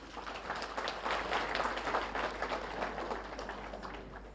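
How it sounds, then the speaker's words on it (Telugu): Faint applause from an audience at a youth talk session, a few seconds of scattered clapping heard from a distance with a low hum underneath. "గట్టిగా చప్పట్లు"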